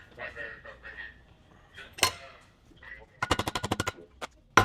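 Wheel studs on a Nissan 350Z hub being hammered out, sharp metallic strikes including a rapid burst of about eight blows near the end, with someone talking in between.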